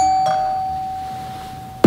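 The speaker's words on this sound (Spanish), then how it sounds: "El timbre." A doorbell chimes once with a sustained, ringing tone that slowly fades, followed by a sharp loud noise at the very end.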